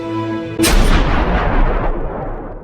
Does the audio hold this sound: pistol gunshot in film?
yes